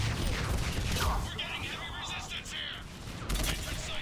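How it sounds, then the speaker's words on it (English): Rapid machine gun fire from Mass Effect 3 rattles in dense bursts with mechanical whirring and game effects, and a voice speaks partway through. "I've got a new machine gun."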